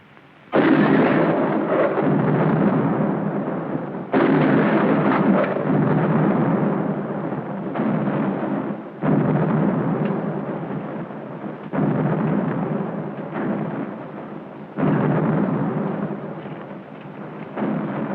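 Nine-pounder cannons fire in a movie battle scene, six loud booming blasts arriving every few seconds, each rolling on in a long heavy rumble into the next.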